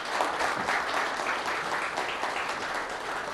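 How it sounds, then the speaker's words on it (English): A business audience gives warm, sustained applause to welcome Minister Piyush Goyal, a full and even wash of clapping from many hands without speech. "Can we have a warm round of applause to welcome him"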